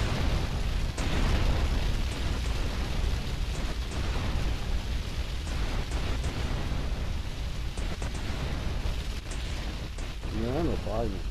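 A steady roar of crackling bursts and booms from a fireworks-like explosion in GTA Vice City, with sharp pops scattered throughout and voices faintly mixed in.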